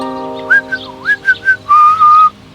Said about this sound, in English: she saw that man whistle a strange whistle